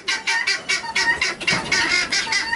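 Chickens clucking close by, a rapid, continuous run of rhythmic, fairly loud clucks from several birds at once.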